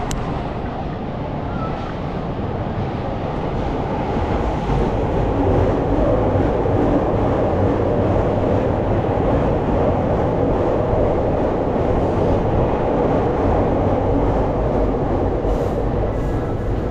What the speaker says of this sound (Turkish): Treni göstereyim size.